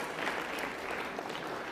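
Audience applause at a Hindi panel discussion on higher education, a steady wash of many hands clapping at a fairly low level throughout, with no speech over it.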